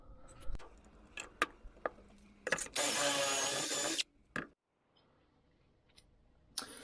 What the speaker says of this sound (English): let's just drill the hole